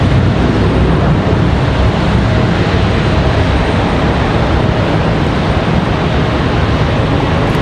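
An airliner climbs out at full power from Charlotte Douglas, a dense, unbroken jet roar that stays loud and close the whole time.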